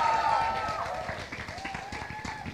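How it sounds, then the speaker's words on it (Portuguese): An audience claps at an award announcement for a Best Creative Twist honourable mention, a dense ripple of applause heard through crowd noise and a background tone. "Podem bater palmas"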